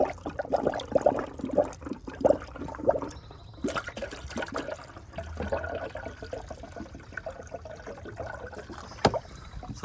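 Coolant and water splashing and bubbling in a funnel during a coolant flush on a Ford F150, a close, continuous gurgling with irregular sloshes and no talk.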